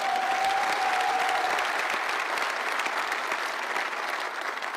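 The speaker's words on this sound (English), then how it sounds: "How about a round of applause for Gary?" A room of attendees at a Maryland basketball coaching press conference applauds Gary Williams, a dense, even round of clapping that carries steadily and tapers slightly near the end.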